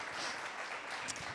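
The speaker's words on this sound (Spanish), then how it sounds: "Les damos un aplauso de bienvenida." Church congregation applauding to welcome first-time visitors: continuous, even clapping from a roomful of people, heard at a distance and fairly faint, with no voices standing out.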